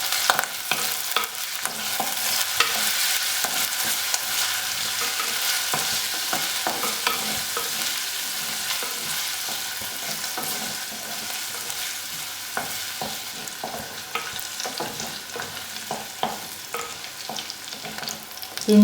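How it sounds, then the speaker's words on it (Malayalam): Ginger, garlic and green chilies sauté in hot oil for a Kerala tilapia fish curry, giving a steady close sizzle with frequent scraping stir clicks throughout, no voices. "എണ്ണ ചൂടായിട്ടുണ്ട്. ഇതിലേക്ക് ഇഞ്ചി വെളുത്തുള്ളി പച്ചമുളക് ഇടാം."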